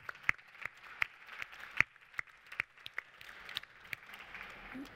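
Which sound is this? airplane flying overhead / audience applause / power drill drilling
audience applause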